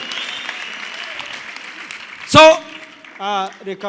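A comedy show audience bursts into a short round of clapping and cheers, loud and close, between stretches of a performer's voice talking over a quiet room.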